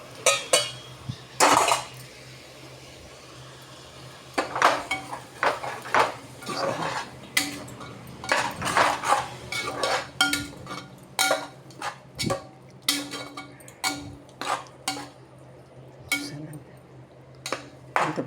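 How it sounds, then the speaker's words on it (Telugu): A boiled tomato mixture is added to a pot of king beans curry, heard as close, bright clinks and scrapes of a metal spoon against the pot and dishes, irregular and repeated, with no talking. "ఇప్పుడు మనం ఈ బాయిల్ చేసుకునే టమాటా మిశ్రమాన్ని కూడా ఇందులో వేసేసుకుందాం"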